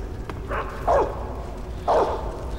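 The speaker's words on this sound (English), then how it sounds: "Dogs are freaking annoying." Dogs bark in the stealth game Metal Gear Solid 3: Snake Eater, two distinct mid-distance barks about a second apart over quiet game ambience.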